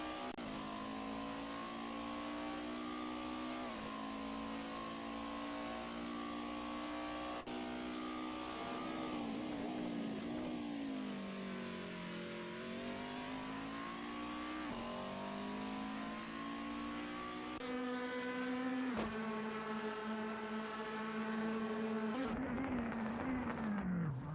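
DTM race cars in a sim racing game lap the Remus section of the Red Bull Ring, engines droning loud and steady with pitch rising and falling through gear changes and braking, a higher revving car taking over near the end.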